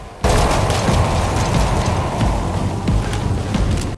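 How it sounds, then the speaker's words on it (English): In Metal Gear Solid V, a rocket launcher round bursts into a sudden loud blast that rolls on as a dense, rumbling roar for several seconds, no speech. "in method number 4, we use a rocket launcher."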